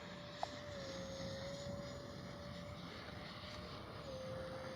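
A Freewing F-35 70mm electric ducted-fan RC jet on a gear pass with its landing gear down, giving a steady, distant whine that holds level across the pass over a constant airy background.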